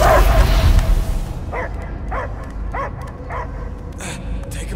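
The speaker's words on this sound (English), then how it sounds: "I hear only barking." A dog barks five or six times in a steady rhythm at moderate distance, following a burst of noisy rushing sound at the start.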